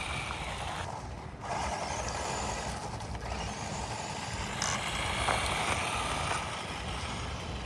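Haiboxing Thunderburst 4WD RC buggy driving, a steady whirring motor drone with gravelly rolling noise from the tires, holding at a constant level with small surges and no talk.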